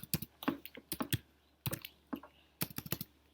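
Typing on a computer keyboard while writing HTML code, with bursts of quick clicky keystrokes in several short clusters separated by brief pauses, close and clear.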